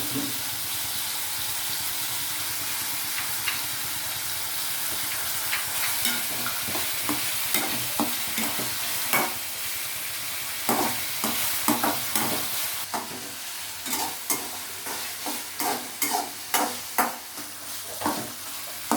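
Onions sautéing in a pan for egg kothu parotta, with a continuous close sizzle and repeated scraping spatula strokes that grow more frequent and louder toward the end, with no talking.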